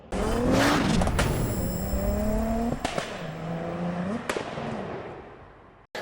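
An Audi TT Mk1 with a VR6 3.2 engine revs up and down with a deep exhaust burble, punctuated by sharp pops and crackles, loud and close.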